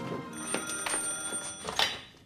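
A telephone bell rings in a household scene from a Taiwanese drama series: several short, bright, trilling rings in quick succession, clear and close, with no talking.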